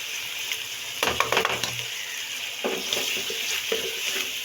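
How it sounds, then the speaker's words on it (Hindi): Yogurt is stirred into a chicken macaroni mixture in a pan over a low flame, giving a steady soft sizzle with a few scraping, clinking spoon strokes in bursts. "अच्छी तरह से इसे मिक्स करेंगे"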